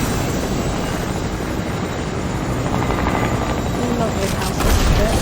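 A helicopter in a video game roars with a continuous, loud broadband rotor and engine wash, a steady drone with a brief surge near the end.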